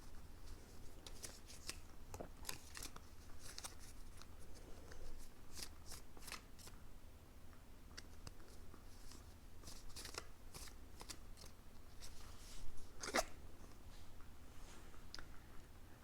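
Tarot cards shuffled by hand during a card reading, a steady run of soft riffling and flicking with sharper snaps scattered throughout, close and fairly quiet against a low background hum.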